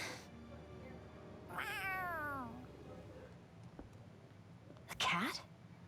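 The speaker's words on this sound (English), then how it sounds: "A cat? Where'd it come from?" A cat in the video game Tales of Arise gives a drawn-out meow, then a second shorter, sharper mew a few seconds later, close and clear over quiet background.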